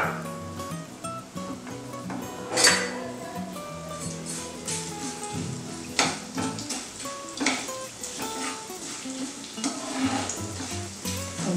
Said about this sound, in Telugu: ఆయిల్ హీట్ ఎక్కిందండి, 1 స్పూన్ ఆవాలు, 1 స్పూన్ జీలకర్ర, 2 స్పూన్ ధనియాలు, 1/2 స్పూన్ మెంతులు.